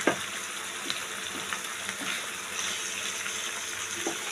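Amudi fish fries in a pan with onion and garlic, giving a steady, soft sizzle broken by small scattered pops and spits, close and fairly quiet, with no talking.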